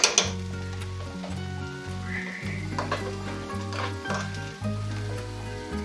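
Tomato paste sizzling and frying in a pot of brisket chili, a steady close hiss with occasional stirring scrapes and clunks running throughout, with a low hum and tones in the background.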